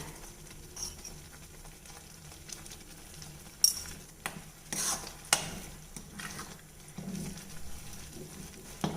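Pineapple kesari is stirred with ghee in a pan on a gas stove: soft scraping and faint sizzling, broken by a few sharper knocks of the spoon against the pan, with no talking.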